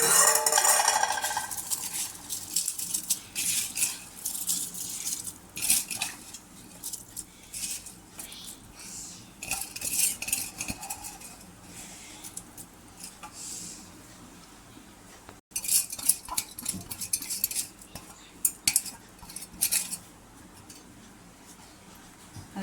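Rice tipped into a pot of boiling water for chicken biryani and stirred: repeated metallic clinks and scrapes of a spoon against the pot over a low bubbling bed, close and uneven, with no voices.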